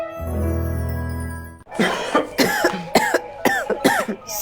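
A sustained musical tone ends abruptly and is followed by a run of harsh, repeated coughs in close succession, loud and near, in an anti-smoking announcement.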